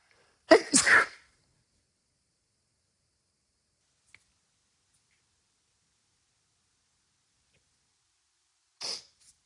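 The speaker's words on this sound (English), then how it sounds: "I'm going to sneeze." One loud sneeze up close, a quick double-burst of breath, followed by long silence and a faint sniff near the end.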